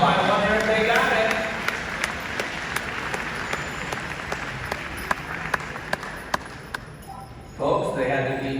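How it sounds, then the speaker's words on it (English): Steady applause from a crowd outdoors at a horse pulling contest, with sharp intermittent pings or bangs cutting through, before a voice starts talking near the end. "Give them a big round of applause, folks."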